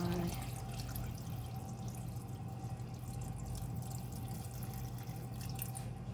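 Hot water poured into a pot of Thai chicken and mushroom curry with vegetables, giving a steady watery trickle and dripping that runs continuously over a constant low hum.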